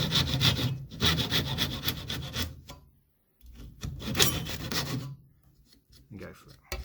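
A tenon saw cuts wood for a half lap joint, with rapid close rasping strokes in two bursts separated by short pauses.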